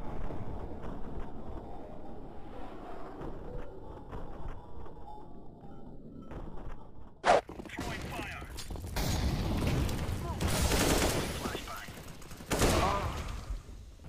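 CZ pistol fire in the Counter-Strike video game: after a quieter stretch with low background sound, one sharp shot cracks out, followed by louder bursts of gunfire and mechanical clatter.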